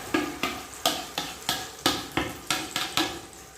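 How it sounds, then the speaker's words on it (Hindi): A spoon spreading dough batter around a pan to shape a jaggery roti, about a dozen sharp scraping strokes at a steady rhythm, close and clear with no talk. "चम्मच की मदद से इसको गोल कर देते हैं ऐसे"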